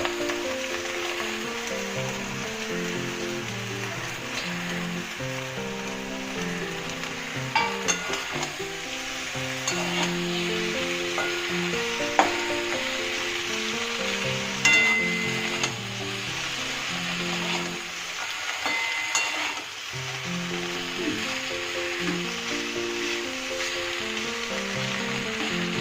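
Malabar spinach is stir-fried in a pan, steady sizzling with scraping and stirring strokes against the pan, backed by continuous music and no talk.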